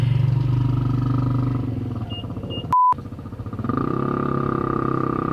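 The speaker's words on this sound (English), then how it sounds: "Loud vehicles." Loud vehicles pass outside a parked camper van, with a heavy engine roar that eases off and then swells again, plus a brief sharp tone partway through.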